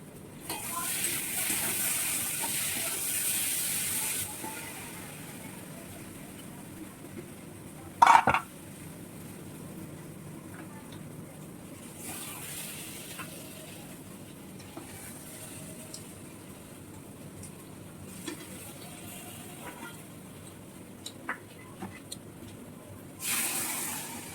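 Water at a rolling boil in a rice pot on a home stove, with bursts of steam hissing loudly at the start and again at the end over a low, steady bubbling simmer.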